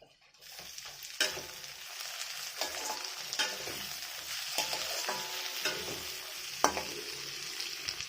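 Chopped tomatoes fry in a pan for rajma, giving a steady sizzle with repeated sharp scrapes of stirring at irregular intervals, close and fairly quiet.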